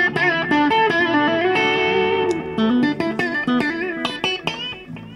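Electric guitar with mild overdrive playing a short melodic phrase of sustained notes and chords, crunchy but fairly clean, loud and alone.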